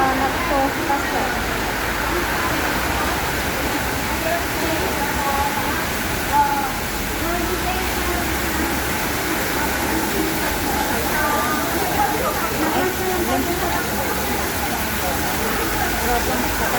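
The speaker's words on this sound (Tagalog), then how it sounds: "Grabe ang lakas ng ulan." Heavy rain falls in a steady, dense hiss around an outdoor market, loud and unbroken, with people talking faintly beneath it.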